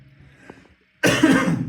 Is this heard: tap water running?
no